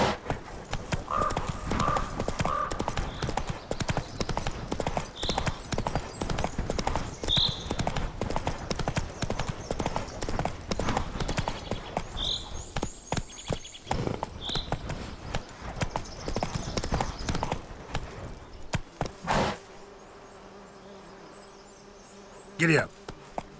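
Roach, a horse in The Witcher 3, gallops with a steady rapid clip-clop of hooves, loud and continuous, against a game soundscape with buzzing insects, before the hoofbeats stop abruptly near the end.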